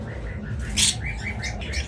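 Small birds chirp and tweet in short repeated calls, close by, over a steady low background hum.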